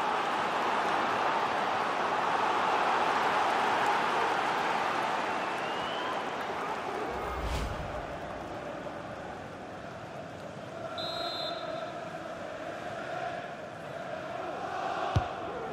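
Stadium crowd in EA Sports FC 24 during a Premier League match, Brighton versus Chelsea: a broad murmuring roar that gradually fades and then lifts again, with a few brief whistles and a sharp knock near the end.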